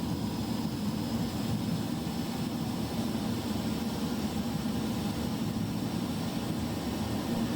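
Steady, dense roar of a BAE Hawk T1 jet engine under power in a flight simulator, a constant broadband rush with a faint high whine running evenly and loudly throughout, no voices.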